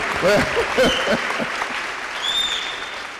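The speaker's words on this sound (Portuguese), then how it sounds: "Vamos dar umas palmas para o pessoal que estão lá do outro lado." Audience at a public talk in Araxá, Brazil, clapping for people across the venue; applause sits under raised voices at first, then continues as a moderately loud wash with a brief whistle near the end.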